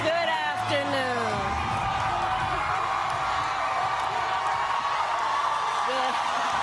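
A crowd at a press conference keeps cheering and whooping in a steady, dense roar, with individual shouts and a voice heard over the din.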